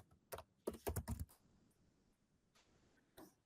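A name is typed on a computer keyboard: a quick burst of key clicks, then a pause and a couple of isolated taps, close and quiet.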